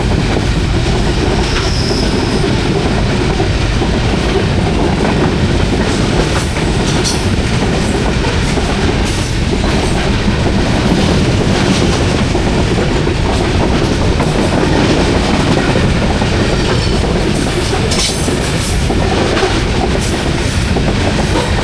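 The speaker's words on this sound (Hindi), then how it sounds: "ये 150 डाउन मेहरान एक्सप्रेस रवाना हो गई जंगशाही से" Mehran Express passenger train (150 Down) pulling out of Jung Shahi station, a loud, steady roar of rolling railcars with continuous clickety-clack and occasional wheel squeal, close by and sustained with no talking.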